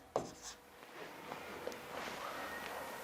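Pen moving quickly over paper while working a Class 11 maths solution, a soft continuous scratchy scribble with a few light taps, close and faint against a quiet room.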